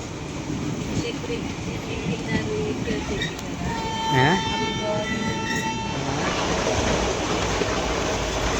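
The Aurangabad Express 17253 pulls away with a steady rumble of wheels and carriages, and a horn sounds briefly mid-way, all close and continuous with no clear talk.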